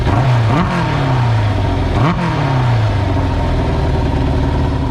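A worn 1987 Yamaha FZR 1000 motorcycle with a Vance and Hines exhaust runs loudly up close, idling with two quick throttle blips that rise and fall in pitch.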